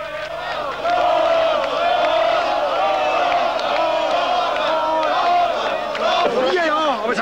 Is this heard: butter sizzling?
no